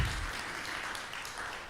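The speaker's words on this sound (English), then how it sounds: "A big round of applause to Ambassador." An audience at an academic conference gives a short, steady round of applause for an ambassador, a dense wash of clapping with no voices over it.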